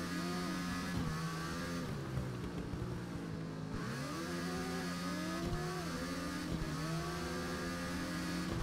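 Motorcycle racing in the TT Isle of Man video game on PC, a loud continuous engine roar that revs up and down through repeated gear shifts at high speed, with no talk over it.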